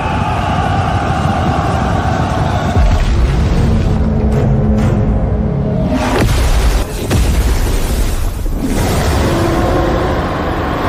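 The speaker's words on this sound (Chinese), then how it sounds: "走着，带你们看一场盛大的烟花秀去。" Heavy booming blasts, set up as a grand fireworks show in an animated Chinese fantasy series, erupt loud and close in several bursts over a dense rumbling bed, with no voices.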